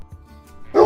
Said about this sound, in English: Hey, look at that dog!